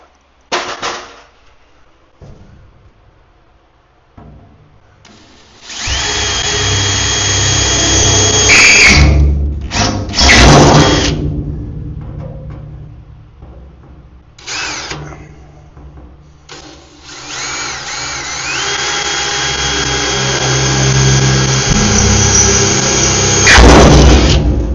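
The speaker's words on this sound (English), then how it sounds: "we're going to go ahead and drill the holes out for this light" A power drill whirs in long steady runs, close and loud, stopping briefly in between, with a rougher grinding edge as it bites into the metal of a powder coating oven.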